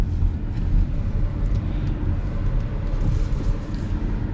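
A 2026 Honda Civic Hybrid, rated at 200 horsepower, drives along with a steady low rumble of road and cabin noise and no talking.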